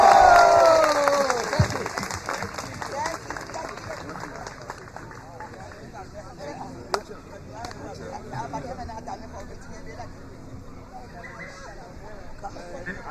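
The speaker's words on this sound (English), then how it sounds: "Can you give a round of applause again?" An audience at a live Pennsylvania political event applauds and cheers. A dense burst at the start fades into scattered clapping and crowd murmur with a sharp clap or knock midway, and talk runs beneath it.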